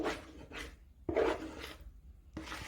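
A spoon scrapes sweet potato mixture from the edges of a bowl in three or four short, close rasping strokes separated by brief pauses.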